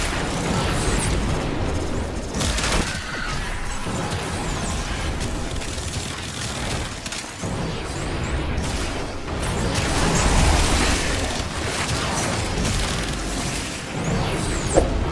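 Banshee's nuke ability in the Warframe video game sets off dense, continuous booming explosions and bursts, loud and layered with almost no pause.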